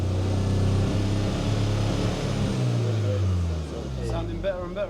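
MK5 Golf GTI with a misfire, bogging under full throttle: a steady loud engine drone whose pitch sags and wavers rather than climbing, heard from inside the car.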